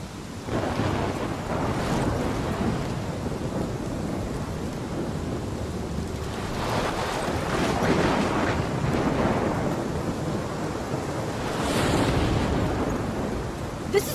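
A fierce storm rages in the video game Life Is Strange, loud sustained roaring wind and crashing waves with rumbling surges that swell and fade across the scene, no talk.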